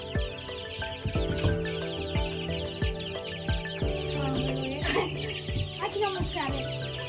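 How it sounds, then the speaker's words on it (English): Chickens and small chicks at a fair petting zoo cluck and peep repeatedly nearby, with short rhythmic calls over a busy background and some voices talking. "Look at all these cute little chicks."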